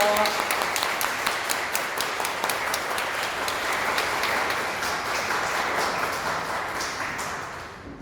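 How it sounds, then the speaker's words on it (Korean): Guests at a Korean wedding ceremony clap together after the officiant's marriage declaration, a dense, even round of applause that fills the room and slowly tapers off toward the end. "박수 부탁드리겠습니다."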